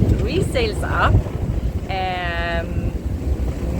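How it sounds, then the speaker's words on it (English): Strong gusty wind of about 25-26 knots at sea aboard a sailboat with reefed mainsail, mizzen and genoa, buffeting loudly and continuously while someone talks over it. "A lot of wind, and we have approximately like 25-26 knots in the gust at the moment"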